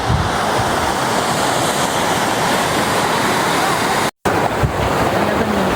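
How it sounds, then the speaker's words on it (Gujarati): Dhanikhunt waterfall on the Karjan river in winter gives a loud, close, continuous roar of falling water with some wind buffeting the microphone. The sound cuts out for a moment near the end. "કરજણ નદી ઉપર બનેલો આ ધાણીખૂટ વોટરફોલ."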